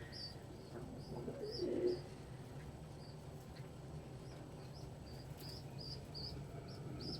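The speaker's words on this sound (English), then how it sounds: "he's young enough to hopefully learn how to pigeon amongst other pigeons" Pigeons coo repeatedly in a steady, soft rhythm throughout, close by and fairly quiet, over a low background hum with no talking.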